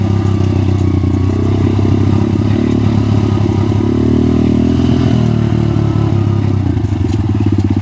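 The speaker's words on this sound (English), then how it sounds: "So even though we've got taller gearing, the bike is crawling nicely." A Crossfire pit bike fitted with taller gearing crawls along in low gear. Its engine gives a loud, steady, close-up putter with a constant low rumble and some rattling clatter, and no voices are heard.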